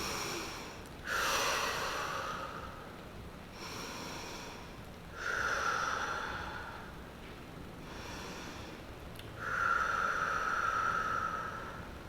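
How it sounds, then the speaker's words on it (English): Three deep inhale-exhale cycles during a hip mobility stretching class, each breath a broad airy rush that swells and fades in a slow, even rhythm, close and fairly quiet with no talking. "3 nice deep inhales, exhales here."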